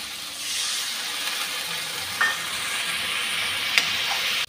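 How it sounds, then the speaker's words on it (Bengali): A steady, loud sizzle as dissolved spice paste hits tomatoes frying in a pan, cooking for a Bengali tengra fish curry, with a couple of brief clinks from stirring and no talk. "এখন গুলে রাখা মশলাটা দিয়ে দিচ্ছি"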